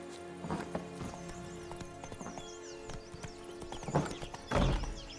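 Hooves of Roach, a horse in a video game, clip-clop at a rapid galloping rhythm, with a couple of louder thumps and a brief whinny over soft game ambience.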